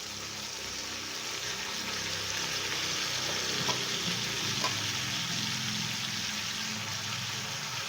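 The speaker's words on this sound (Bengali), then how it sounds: "এখন এর মধ্যে দিয়ে দেবো যে লাউয়ের ডোকাগুলো আমি কেটে রেখেছিলাম, সেটা এখন এটার মধ্যে দিয়ে দিচ্ছি" Bottle gourd shoots fry in a pan with a steady, loud sizzle that holds evenly throughout, along with a couple of faint clicks and no speech.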